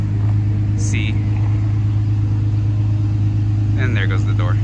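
Infiniti G35 fitted with a loud aftermarket exhaust idling nearby, a constant deep droning rumble with brief faint voices and small noises over it.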